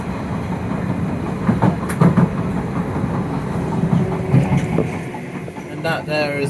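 A London Underground Piccadilly line train runs toward Rayners Lane with a steady rumble and rhythmic clatter of wheels over rail joints, heard from inside the carriage, with a voice announcement faintly over the running noise.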